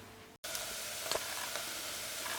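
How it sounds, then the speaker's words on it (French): Onions and leeks sweating gently in a pan for a corn and chestnut soup, giving a soft, steady sizzle with a few faint clicks, quiet and close. "je vais faire suer ça tout doucement"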